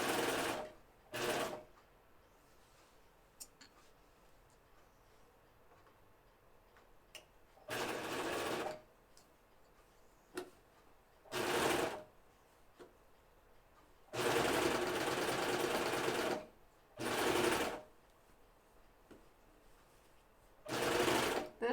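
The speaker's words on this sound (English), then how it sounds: "This is the most awkward way for me to serge" A serger runs in several separate bursts while stitching a seam on a Myosotis dress, each a loud whirring run of one to two seconds with quiet pauses between.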